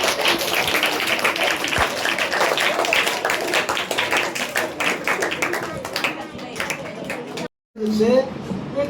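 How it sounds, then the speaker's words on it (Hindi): A hall audience claps loudly and densely for a senior teacher, a sustained wash of hand claps that cuts off abruptly near the end before a voice resumes. "ताली जोरदार बजाओ"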